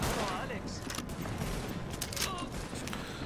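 Rapid M4 rifle gunfire from The Division, a dense fusillade of shots running continuously through the scene at steady loudness, with a voice speaking faintly underneath.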